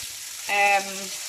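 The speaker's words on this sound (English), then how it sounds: "once your oil is hot in your pan, just put those beef pieces in" Beef pieces hit hot oil in a pan, a short sharp sizzle that swells briefly and then settles into a steady fry.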